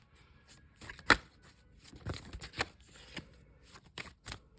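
Tarot cards being shuffled by hand, giving crisp riffling bursts and soft slaps in an irregular rhythm, close and fairly quiet with no voices.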